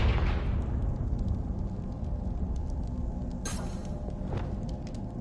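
A Confringo blasting spell explodes in Hogwarts Legacy, opening on a loud burst that fades into a rumbling wash, followed by smaller sharp pops later on, with no talking.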